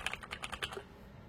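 Keystrokes on a tape-modded mechanical keyboard, a short run of about eight to ten quick, muted clacks in uneven rhythm, close and fairly quiet, then stopping, with no talking.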